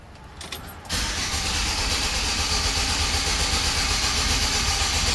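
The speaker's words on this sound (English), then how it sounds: "So let's start it back up here." A 2013 Chevy van's engine cranks briefly, then catches and settles into a loud, steady idle close by.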